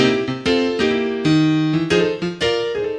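A piano's left hand plays a blues propulsion pattern of steady, rhythmic repeated notes and chords, heard clearly and close with nothing else over it.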